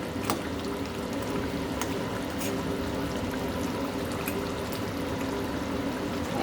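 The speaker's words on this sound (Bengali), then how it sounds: "মাছগুলো ছেড়ে দিয়ে এক জলের ঝোলের মধ্যে দিয়ে দেবো যাতে মাছগুলো সিদ্ধ হয়ে যায়" Water being poured into a simmering fish curry broth with potato, eggplant and beans, a steady, continuous rushing pour at moderate loudness with no pauses.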